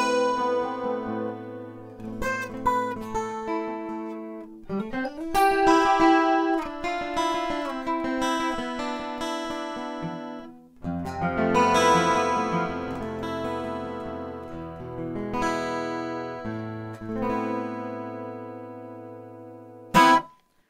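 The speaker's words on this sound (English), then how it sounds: "besides reverb, it also has a chorus built into the guitar" Solo acoustic guitar with a built-in chorus effect plays chords and picked lines with a shimmering, doubled tone, sustained ringing phrases continuing for about twenty seconds before a final sharp strum.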